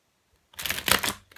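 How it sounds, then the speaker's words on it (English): Tarot cards are given a brisk shuffle after a moment of near silence, a close burst of fluttering, riffling card clatter lasting under a second. "Just giving it a big girl shuffle"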